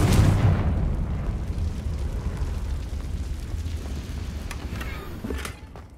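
The Confringo explosive spell goes off in Hogwarts Legacy with a loud, close blast at the start, then a long rumbling roar that fades slowly, with faint crackles near the end and no voices.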